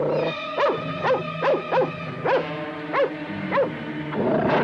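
A dog barks about eight times in a steady, evenly spaced series of short, loud, fairly close barks over a quiet background.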